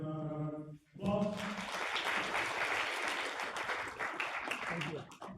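After a brief voice at the start, a round of applause from the audience at an AI and marketing summit breaks out and holds steady, moderately loud clapping from a room of listeners thanking a presenter.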